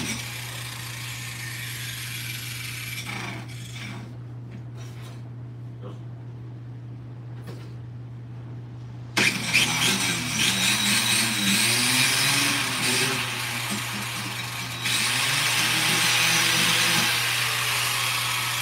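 An angle grinder cuts into the body of a Mustang, and a harsh, loud, continuous grinding roar cuts in midway over a steady electrical hum, growing louder toward the end.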